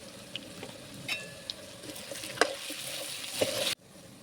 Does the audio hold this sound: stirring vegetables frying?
yes